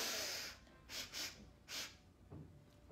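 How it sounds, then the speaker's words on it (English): A person takes a series of quick, sharp sniffing inhales through the nose during a belly-breathing exercise, several short bursts in a row, close and fairly quiet, with no talking. "Expand, expand, expand by sniffing 3 times."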